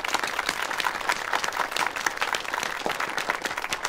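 Warm applause at an official meeting welcoming a provincial state-assets commission director to speak, a dense, steady burst of many hands clapping throughout.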